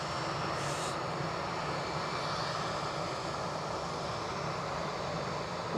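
An Austrian-registered EasyJet Europe airliner at Edinburgh Airport produces a steady, moderately loud jet engine rumble that runs evenly throughout, with no one talking over it.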